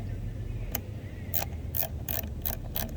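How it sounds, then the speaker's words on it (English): A ratchet wrench tightens bolts on an engine manifold, with a single click followed by a run of short rhythmic ratcheting bursts, close and clear over a low background hum. "And we're just going to ratchet them down."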